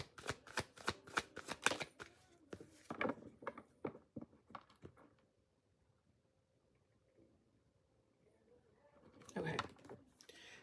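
Tarot cards are riffled and shuffled in a burst of quick, close flicking patters, then pause into near silence before a brief final rustle.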